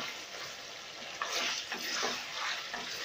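Vegetarian mutton curry (niramish pantha mangso) fries on a high flame with a steady close sizzle, broken by brief scraping bursts as it is stirred.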